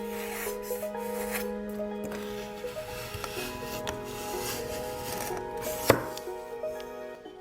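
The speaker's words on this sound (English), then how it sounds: "some cutting noises." Blade cutting and scraping the glossy factory skin off a foam block for tabletop terrain, heard as close, rhythmic rasping strokes of varying length, with a sharper scrape near the end and no talking.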